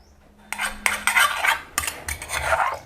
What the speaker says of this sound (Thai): ใส่พริกแดงจินดาลงไป 5 เม็ด ตามด้วยกะปิครับ 1 ช้อนโต๊ะ โขลกให้เข้ากัน